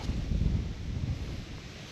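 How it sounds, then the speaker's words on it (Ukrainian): A westerly wind blows by high water at a fishing spot, rumbling and buffeting the microphone in a steady low roar with gusty swells throughout the short stretch. "Як бачимо, западний дує."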